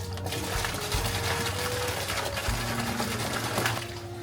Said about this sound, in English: I'll add some water to the small bucket to dissolve the caustic soda.